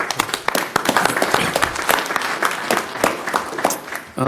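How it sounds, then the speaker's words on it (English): At a city council meeting, the audience gives the pastor a round of applause, a moderate crowd of distinct, somewhat uneven claps lasting a few seconds. "Let's give Pastor a round of applause."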